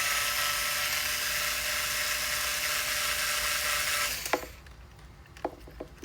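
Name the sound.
power drill driving screws with pH1 bit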